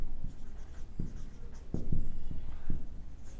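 Pen writing a maths solution on paper, close-up soft scratching strokes with short taps and pauses, quiet and steady with no voices.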